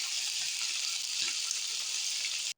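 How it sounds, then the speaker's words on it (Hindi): Whole white cumin seeds sizzling in a karahi with chicken, a steady close hiss of frying that runs unbroken for a couple of seconds, then cuts off abruptly. "अब हम इसमें हाफ टी स्पून साबुत"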